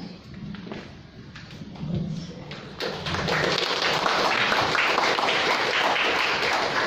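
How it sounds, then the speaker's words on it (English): Audience applause at a storyboarding presentation, starting faint and building into sustained, dense clapping from a crowd that continues to the end. "Thank you for the applause"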